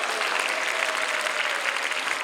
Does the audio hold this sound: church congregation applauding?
yes